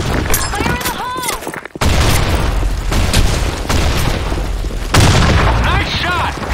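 A grenade goes off in an online shooter set in a broken city, delivering heavy booming blasts amid gunfire and clattering, with voiced radio-style chatter running over the explosions.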